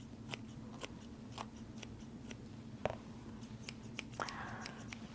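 Double shears with bent handles snip in a few sharp, scattered clicks over a steady low hum, with one louder metallic cut near the middle and no talking.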